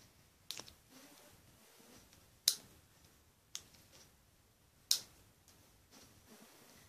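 A homemade guitar pick is cut out by hand, heard as four or five sharp, quiet snips spaced about a second apart against a near-silent room.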